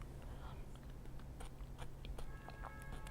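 Someone eats leftover tangsuyuk (Korean sweet and sour pork) with softened batter, mixed into ramen, close to the mic: quiet, soft chewing and small bites under faint background hum.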